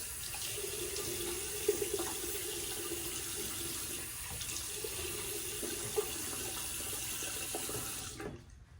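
A bathroom tap runs steadily for about eight seconds while shaving soap is rinsed off a neck, a continuous close splashing rush with small splatters before the water shuts off at the end.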